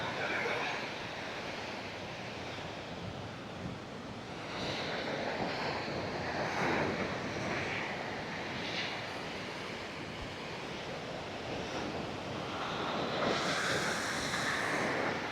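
Surf washing onto a Mexican beach strewn with sargassum seaweed, a steady broadband roar of breaking waves with wind buffeting the microphone and swells rising around the middle and end.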